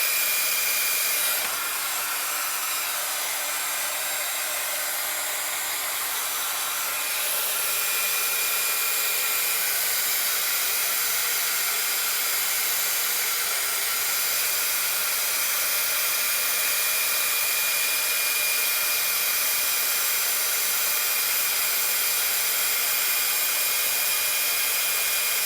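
An embossing heat tool blows steadily while heating embossing powder over a wide surface on a Christmas advent-calendar breakfast box, a continuous airy whoosh held close for the whole stretch with no talk.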